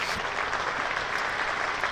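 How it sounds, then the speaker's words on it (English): A cricket crowd at a Hampshire v Worcestershire one-day cup quarter-final gives warm applause for batter Ben Brown, steady distant clapping that holds evenly for the whole stretch, moderately faint and with no talk over it. "Well deserved applause here for Ben Brown."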